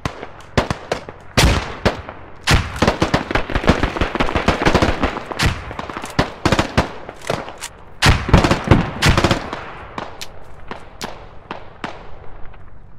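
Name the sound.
mounted gun firing in a video game squad battle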